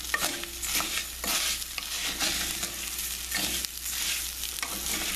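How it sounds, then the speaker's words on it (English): Israeli couscous with fresh-cut corn and garlic is stirred in a pan over a fairly high flame. A steady, dense sizzle runs throughout, broken by scraping stirs. No one speaks. "So you have to keep on stirring this and look for any color change"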